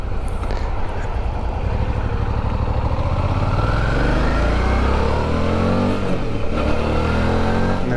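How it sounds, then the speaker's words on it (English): A Suzuki V-Strom 650 motorcycle engine under way on a ride, rising and falling as it revs through gears, loud and close without talk, with wind noise around it. "And that's the engine."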